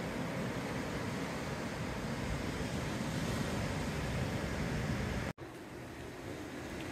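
Steady ocean surf rolls in at an oceanfront spot on the water, a constant broad wash with wind buffeting the microphone, briefly cut by a sharp dropout before the roar resumes.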